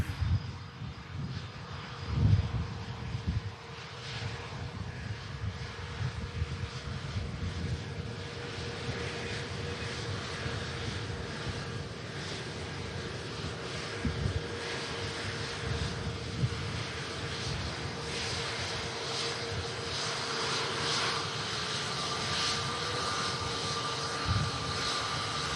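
A Pegasus airliner taxis at Manchester Airport, its engines giving a steady, moderately distant rumble and whine that holds throughout without break.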